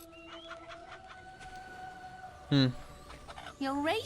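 Chicken in the video game Fable Anniversary, a couple of short, bright clucks near the end, heard over a steady tonal background hum and faint game sounds.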